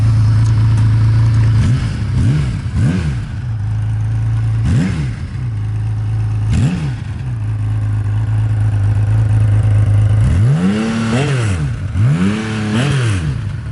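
A 1982 Kawasaki KZ1300A motorcycle engine runs loudly up close, its deep exhaust burbling with repeated throttle blips that rise and fall in pitch.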